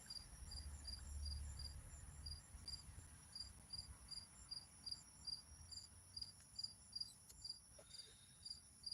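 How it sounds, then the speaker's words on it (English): A cricket chirps steadily at night, with a faint, evenly spaced high-pitched chirp pulsing throughout over a low rumbling background. "That's the first time I heard of cricket this year."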